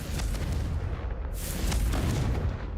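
A Confringo fire-blast spell explodes in Hogwarts Legacy as a pair of deep booming bursts over a low rumble, the second blast louder and brighter, heard alone with no voices.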